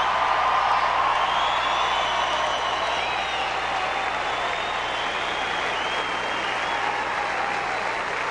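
Stadium crowd applauding and cheering after match point of a 2003 Australian Open tennis quarterfinal, a dense, loud, sustained roar of clapping with whoops throughout.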